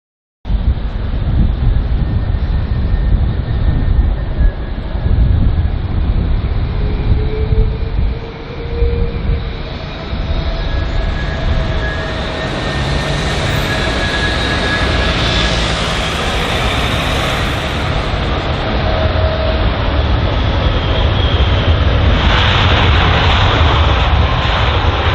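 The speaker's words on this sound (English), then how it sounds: "the 787-10 Dreamliner, operated by British Airways, as you can see by the blue belly" A British Airways Boeing 787-10 Dreamliner arriving at London Heathrow roars loud and steady, its broad jet rumble swelling and shifting in pitch as it passes, with no voices.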